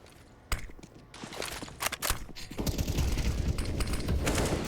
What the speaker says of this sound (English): Snappi sprayed down to 4. The bullets are connecting.